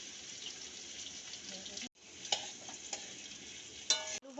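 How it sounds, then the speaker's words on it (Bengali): Potatoes seasoned with salt and turmeric sizzle steadily in hot oil in a pan, with occasional scraping stirs and soft clinks punctuating the constant close frying hiss. "প্রথমে আলুটা ভেজে নিচ্ছি"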